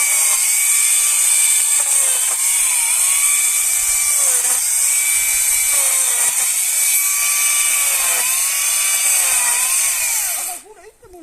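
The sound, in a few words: chainsaw running while limbing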